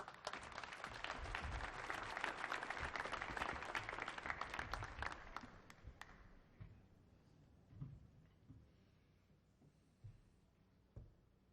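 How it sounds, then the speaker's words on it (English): Audience applause as a singer comes on stage at a concert hall, many hands clapping densely for about six seconds, then thinning to scattered claps. "Give him a round of applause."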